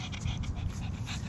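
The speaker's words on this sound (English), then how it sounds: "this is my dog." A dog pants close by, with quick, rhythmic breathy puffs repeating steadily over a short moment.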